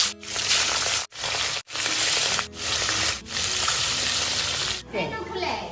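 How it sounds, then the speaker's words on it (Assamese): Fish frying in mustard oil in a wok, a loud steady hiss and crackle of hot oil that cuts out briefly a few times, with a voice nearby near the end. "মাছৰ তৰকাৰী বনাবলৈ মাছখন প্ৰথমতে ভাজি লওঁ। কেৰাহী এখন বহাই দিছোঁ,"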